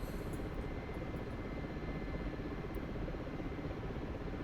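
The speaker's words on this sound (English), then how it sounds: "So I'm just going to take the helicopter around." A helicopter in the flight simulator DCS World drones steadily, a constant dense rotor and engine rumble that holds level from start to finish without any talk.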